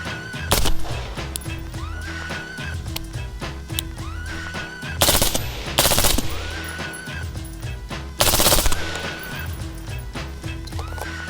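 A Colt rifle fires several loud, sharp shots at irregular intervals, the reports cracking across a noisy outdoor range with background chatter and commotion between them.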